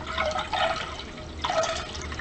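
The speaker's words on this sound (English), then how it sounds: "I'm going to fill it up with filtered water from my reverse osmosis filter." Filtered water from a reverse osmosis filter pours into a container in a steady, splashy stream that rises and falls in strength.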